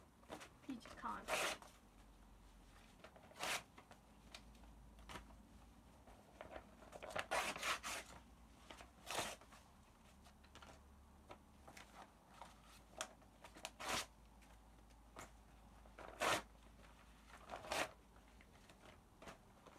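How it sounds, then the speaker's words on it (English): Quiet, intermittent tearing of sheets of school paper by hand, short sharp rips in scattered bursts with pauses between them, recorded close up in a hushed room. "you can't beat a good ripping up paper"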